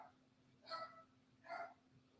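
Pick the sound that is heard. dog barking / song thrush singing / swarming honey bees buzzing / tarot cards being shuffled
dog barking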